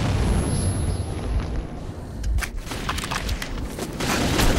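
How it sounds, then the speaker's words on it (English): A grenade explosion in the video game Metro 2033: a muffled boom opens the clip, followed by scattered sharp pops and crackling debris over rumbling low noise. "That's a grenade!"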